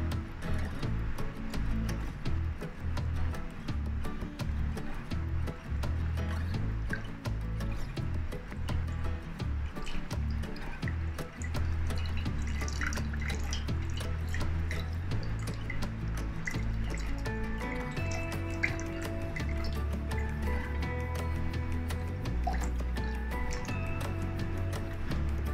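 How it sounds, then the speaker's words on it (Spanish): Cotton wool being soaked with water already mixed with flower food for wrapping a bouquet, heard as continuous close wet dripping, squishing and trickling with no speech. "Vamos a humedecer nuestro algodón."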